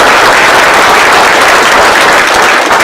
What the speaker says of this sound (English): Give a round of applause to Supervisor Adams.